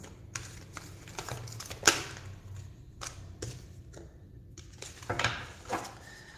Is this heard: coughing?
no